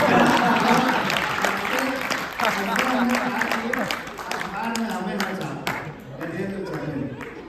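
Audience applause breaks out during a Hindi satirical poetry recitation, many hands clapping over a lively, noisy room while a voice carries on talking through it.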